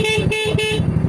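Horn on a Yamaha Mio Sporty scooter after new wiring work, sounding as a steady, close, loud tone held through the clip over an idling engine.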